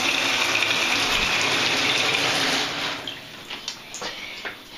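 Hotel shower in a Homewood Suites room in Macon, Georgia, running steadily with a loud broadband water hiss close by, easing slightly near the end as the spray shifts.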